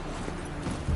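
The horse Roach gallops in a video game, a brief burst of quick, close hoofbeats over a dense background.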